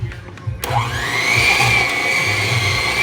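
Electric mixer whirring steadily as it creams butter and beaten eggs for a Caribbean black fruit cake, starting abruptly after a few faint taps and then running loud and continuous.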